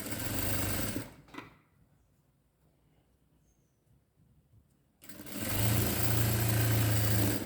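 Sewing machine running as it stitches a folded cloth border, with loud steady whirring bursts at the start and end and a quiet pause between, no talking.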